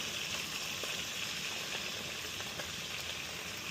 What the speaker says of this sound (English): Let them saute for a few minutes.